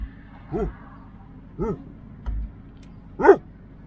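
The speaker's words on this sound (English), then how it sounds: "Oh, he's barking at the doggies." A dog barking during a hot rod road tour: four separate woofs spaced about a second apart, moderately near, the last one loudest, over a low engine-like rumble.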